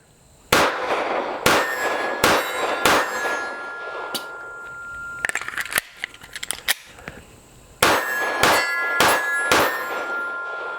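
Sharp metallic clangs and dings of pistol rounds striking steel targets on a range, a SIG Sauer P365XL firing in quick strings, loud and close with short pauses between bursts and a rapid flurry in the middle.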